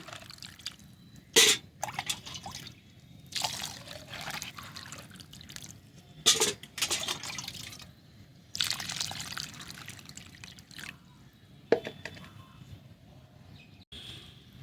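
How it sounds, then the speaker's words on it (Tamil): Water poured into a potted rose plant on a terrace garden, heard as bursts of splashing and dripping trickles with quiet gaps between pours, close and fairly soft. "இப்போ நம்ம தண்ணி ஊற்றிடலாம்"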